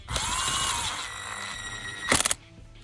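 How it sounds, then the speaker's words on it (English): A 400 foot-pound impact wrench briefly buzzes as it drives a ground wire bolt on an EVO X, a short whirring run that ends in a sharp burst of hammering. "just grab your 400 foot-pound impact and"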